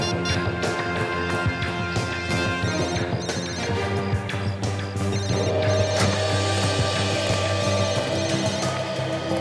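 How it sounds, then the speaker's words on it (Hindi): A phone rings continuously amid a dense, busy wash of sound, with other noises and clatter layered over the ringing throughout. "हाँ, फोन की रिंग जैसी आवाज है।"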